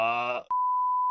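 A censor bleep covers a spoken name: a voice talks briefly, then a single steady electronic tone sounds loud and clear for about half a second until the end.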